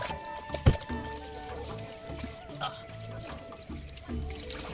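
Cold water from a village tubewell pours out to wash radishes, a continuous splashing gush with a few sharper knocks, fairly close.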